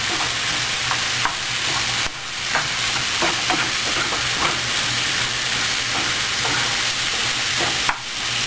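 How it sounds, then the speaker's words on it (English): Ground hamburger meat frying in a single pan makes a loud, constant sizzle, with the spatula scraping and clacking at irregular intervals as it is stirred and broken up, close by and with no talking. "so we break up all the hamburger. You just stir it in here. One pan."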